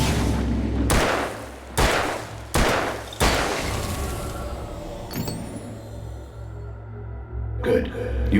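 Gunshots in the video game Alan Wake, several loud booming shots spaced about a second apart, then ringing decay and a fainter rattle, with game voices around them.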